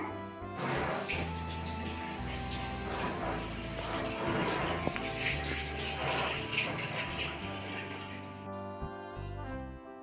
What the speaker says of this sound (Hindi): तो चाकू धो लेते हैं।